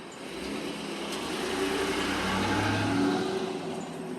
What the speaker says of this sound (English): I'm going to let this traffic get by